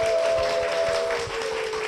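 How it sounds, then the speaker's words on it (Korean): A studio audience at a Korean Christian television broadcast applauds to welcome a church deaconess onto the stage. Steady, dense clapping forms a continuous wash of noise, with a faint sustained tone underneath. "박수로 모시겠습니다"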